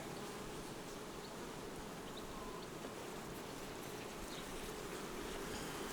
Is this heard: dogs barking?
no